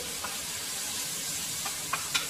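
Potatoes sizzle in a pan with browned onions, a steady soft frying hiss broken by a few light scrapes or taps.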